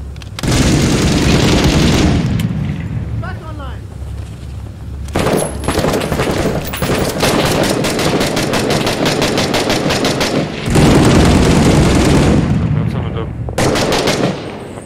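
Gunfire in a tactical video game shooter, loud automatic bursts and single shots in dense volleys with short gaps, close and sustained, with faint talk in between.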